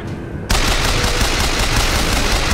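Heavy automatic gunfire from a shooter video game, BioShock Infinite, erupts after a brief quiet start and continues as a loud, dense, steady burst of rapid shots for the rest of the clip.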